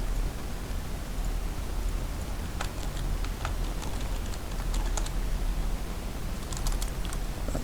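Rapid, irregular clicking of keys on a computer keyboard, moderately close, with sharp individual keystrokes over a steady hiss of background noise.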